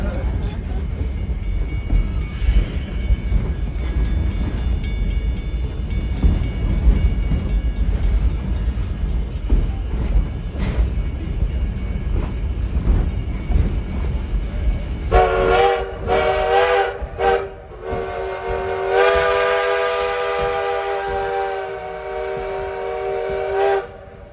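A Virginia & Truckee Railroad steam train rumbles and clanks close by near Gold Hill, Nevada, then sounds its steam whistle in several loud, bright blasts, with voices in the background.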